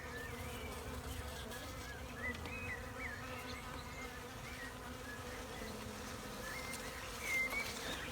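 Honeybees fly in and out of the entrance of a small nuc box used as a bait hive, their buzzing a close, continuous, fairly faint drone with no talking.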